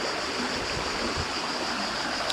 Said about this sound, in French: voici l'état de nos rivières